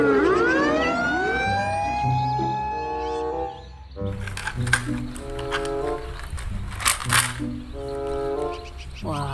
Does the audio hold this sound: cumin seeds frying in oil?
no